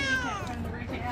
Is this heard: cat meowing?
yes